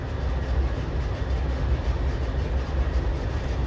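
A freight train rolls steadily through the Interbay rail yard in Seattle, a continuous low rumble and rattle of cars at moderate distance with no break.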